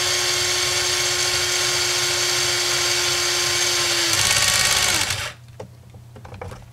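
A power tool whines steadily while running a nut onto a Jeep JK suspension link, holding one pitch for about four seconds, then revving up briefly before cutting off abruptly, leaving quiet shop ambience.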